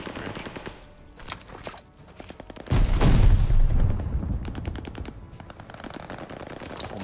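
Gunfire in the Call of Duty Vanguard video game: rapid machine-gun bursts and single shots, loud and close, with a heavy burst near the middle and more fire continuing afterward.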